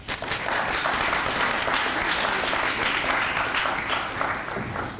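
An audience at a conference talk gives steady, loud applause welcoming a speaker to the stage, a dense sustained wash of clapping lasting the full five seconds without pause.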